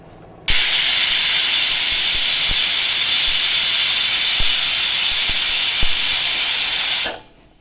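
A pressure cooker whistle cooking kuthiraivali millet kichdi suddenly bursts into a loud, sustained hissing jet of steam, holding steady for about six seconds with faint ticks underneath, then cutting off abruptly.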